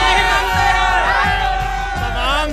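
A large street crowd shouts and cheers together at a political opinion survey in Delhi, loud and close, with overlapping yells and whoops rising throughout.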